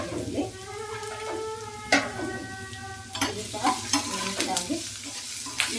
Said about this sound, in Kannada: ಇವಾಗ ಇದು ಫ್ರೈ ಆಗಿದೆ. ಇದಕ್ಕೆ ಈರುಳ್ಳಿ ಹಾಕ್ತಾ ಇದ್ದೀನಿ. ಚಿಕ್ಕದಾಗಿ ಕಟ್ ಮಾಡಿರುವಂಥ ಈರುಳ್ಳಿ.